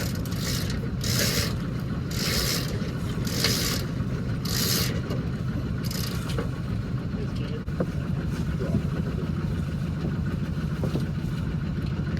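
A sailboat's mainsail being hoisted, with a series of rhythmic, close rasping pulls of line and winch during the first seconds, then a steadier mechanical rumble of the boat continues.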